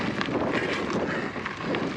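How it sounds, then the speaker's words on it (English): Wind buffets the microphone during a mountain bike ride on the Hurricane trail, a steady, loud, rushing rumble that roars without a break and swells slightly in gusts. "You can probably hear the wind on the video."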